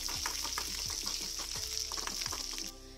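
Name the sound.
onions frying in a pan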